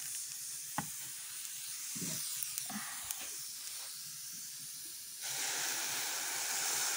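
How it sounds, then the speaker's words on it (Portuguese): Rice with saffron sizzling in a pot on a stove: a quiet, steady hiss with a few soft clinks and stirring noises, growing louder near the end, with no talking. "Gente, já tô aqui passando um arroz."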